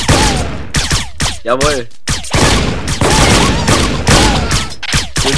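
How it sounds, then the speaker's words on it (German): Rapid bursts of gunfire from shooting in the Teeworlds video game, dense and loud, mixed with game effects and someone talking over them throughout. "Ich habe gerade durch ganz viele Leute geschossen."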